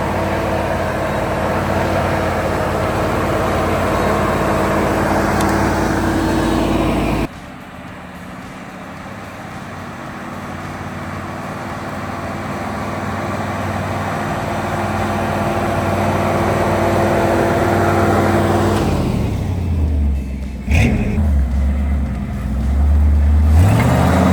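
An old Jeep drives along with a steady engine and road rumble, loud and close throughout, dipping briefly before building again toward the end with heavier low-end surges.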